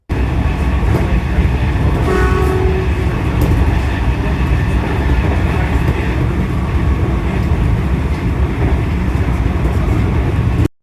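Comeng suburban electric train running steadily past the old closed General Motors station between Dandenong and Hallam, a continuous loud rumble and rail roar with brief tonal squeals, heard from aboard.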